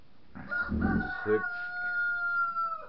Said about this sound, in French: toujours ce coq